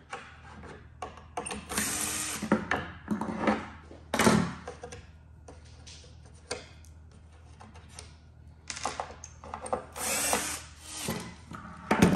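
Screws being backed out of the score displays on a Gottlieb Spirit pinball machine, with pliers holding the parts: scattered close tool clicks, scrapes and brief ratcheting bursts, loudest near the middle and the end, with no talking.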